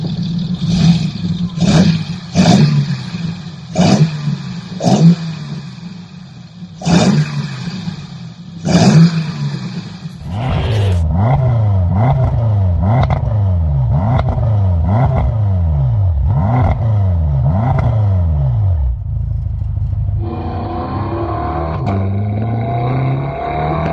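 A German performance car engine fitted with throttle bodies and a stainless steel exhaust barks through sharp, loud revs, then settles into a series of rapid, rising and falling blips with close, raspy intake and exhaust tone.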